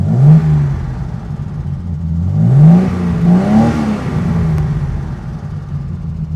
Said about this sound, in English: we have got that straight six under the bonnet. Now have a listen, because it is so good.